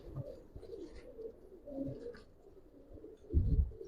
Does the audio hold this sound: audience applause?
no